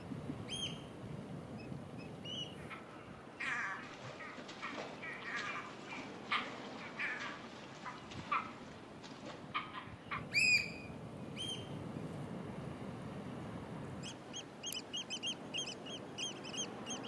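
Seabirds call along the steep, lonely coast of Suduroy in the Faroe Islands: scattered, faint squawks and cries, some in quick clusters, over a soft, steady background rush.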